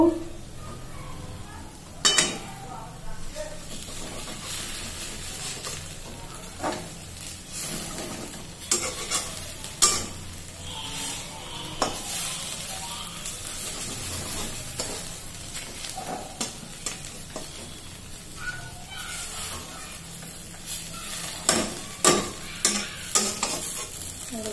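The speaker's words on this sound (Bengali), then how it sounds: "আমার এই পোস্ত ভাজা হয়ে গেল" Poppy seeds frying in a pan, giving off a continuous sizzle while a spatula stirs and scrapes them in repeated strokes, with occasional clinks of utensil against metal.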